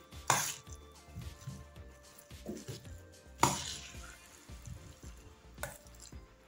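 Pani puri filling of cooked salted peas being stirred in a bowl with chaat masala, pani puri masala, black salt and finely chopped coriander: soft scraping with scattered spoon clinks and a few sharp clatters, close by, no talking.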